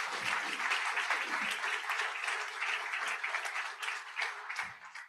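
An audience at a university education convocation applauds, giving a dense, steady clapping that holds for several seconds before tapering off at the end.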